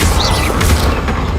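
Confringo blasting spell going off in Hogwarts Legacy, a loud, dense burst of rumbling, crackling explosion energy that sustains for over a second without any voice.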